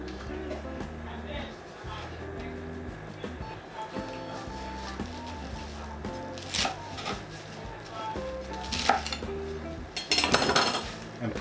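A knife cuts the stems off a bunch of parsley in a kitchen, with a few knocks and clinks on the board under steady background noise, and a louder scraping burst near the end.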